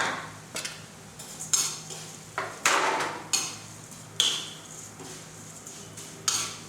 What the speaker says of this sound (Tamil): இதே நெய்யில் போட்டு வறுத்துக்கலாம்.